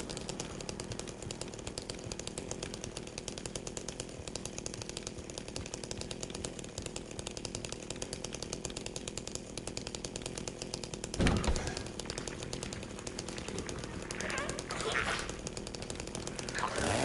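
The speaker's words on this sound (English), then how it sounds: "I love the sound of this chainsaw." Chainsaw in the Silent Hill 2 Remake horror game, a dense continuous buzzing engine roar running loud and steady for the whole stretch, with a couple of sharp bursts partway through.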